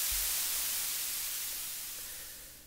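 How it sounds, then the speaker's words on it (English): Steady broadband white noise from a breadboarded Eurorack noise circuit, a flat continuous hiss with no variation, moderately loud and slowly fading slightly over a few seconds. "And there you have it, white noise."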